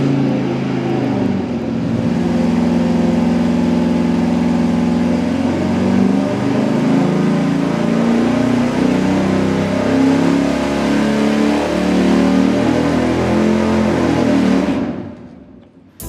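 A low-compression 440 V8 on an engine dyno fires up and holds a loud, steady roar under load for about fourteen seconds, then cuts off abruptly with a fast fade to quiet.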